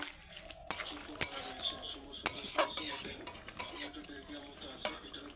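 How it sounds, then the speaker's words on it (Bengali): A metal spoon stirs and scrapes through a pan of potato, drumstick, bitter gourd and small mola fish curry. Close-up clinks and scraping repeat irregularly over a faint sizzle, with no talking. "মোরলা মাছ দিয়ে ভালো করে নেড়ে চেড়ে আবারও চাপা দিয়ে দেবো"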